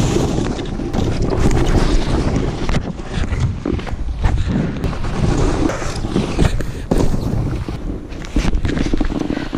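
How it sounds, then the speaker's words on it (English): Loud, gusty wind on a ski slope roars and buffets the microphone continuously, with rough rumbling bursts and no clear voices. "It is so windy, as you can tell."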